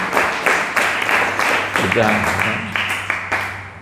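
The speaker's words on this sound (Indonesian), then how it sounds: "ayo tepuk tangan" A crowd at an Islamic boarding school orientation talk applauds, a steady wash of clapping with a few sharper hand claps standing out, while a voice speaks over it.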